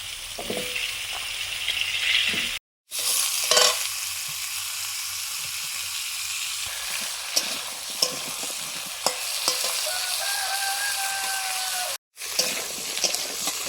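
Cauliflower frying in mustard oil with panch phoron and turmeric, a steady close sizzle with stirring scrapes, briefly cut off twice.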